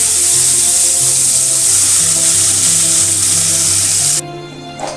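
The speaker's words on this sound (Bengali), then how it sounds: "এতে আবারও তেল দিয়ে বাকি কুমড়োগুলো আমি একই প্রসেসে ভেজে নেব।" Pieces of ash gourd sizzle loudly in hot oil in a pan, a continuous bright crackle with faint tonal hum beneath. The sizzle drops away abruptly near the end.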